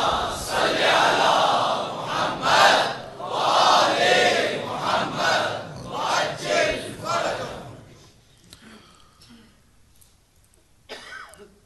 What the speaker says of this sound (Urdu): بلند آواز سے صلوات پڑھیے